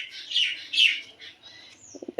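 Myna birds call in bright, chattering bursts near a home garden, two loud squawking phrases followed by softer chirps and a few quick clicks at the end, with no one speaking.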